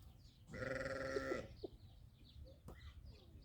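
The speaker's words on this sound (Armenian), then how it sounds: "Հարևանի ոչխարներն են։" A neighbour's sheep in a village gives one long, wavering bleat lasting about a second, fairly close and clear, followed by quiet outdoor background and a brief faint click.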